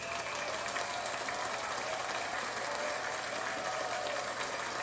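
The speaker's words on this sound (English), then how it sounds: "So a big applause to Herb and Bantu for coming up here." An audience at a talk about Philly club music breaks into applause, a dense, continuous wash of clapping held at an even level throughout, somewhat distant and quiet.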